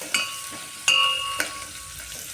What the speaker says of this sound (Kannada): ಈ ಥರ ಬೆಳ್ಳುಳ್ಳಿ ಎಲ್ಲ ಚೆನ್ನಾಗಿ ಫ್ರೈ ಆಗಬೇಕು